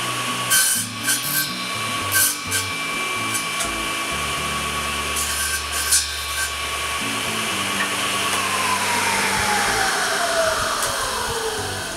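A woodworking machine cutting a tenon grinds and rasps continuously through wood, loud and close, with a steady hum beneath and occasional sharp bursts.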